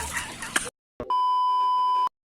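Mobile phone powering off with a steady electronic beep of about one second, clear and close, after a brief burst of a voice and noise, then silence.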